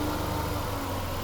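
A car engine is held at 2500 to 3500 RPM during a charging-system test, giving a steady, close, constant drone with no change in pitch over the brief moment.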